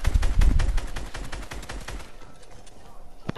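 Rapid P90 gunfire in a video game: a fast burst of sharp shots, loud at first then fading into lighter scattered fire, ending with one more crack.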